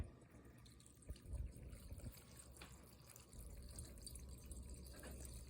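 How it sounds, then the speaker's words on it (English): Alcohol of about 43% strength pours and trickles softly into a jar, with a few gurgles and splashes; quiet and close, no talking. "So what you're gonna do is you're just gonna pour it in."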